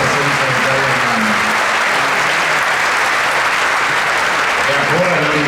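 Loud, dense audience applause at a political rally in Veneto, Italy, honoring regional healthcare workers, sustained evenly from start to finish and close and enveloping.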